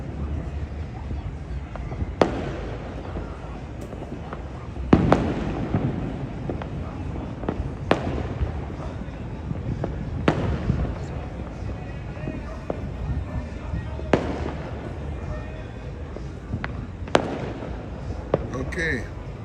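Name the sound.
New Year's Eve fireworks set off by people in Trinidad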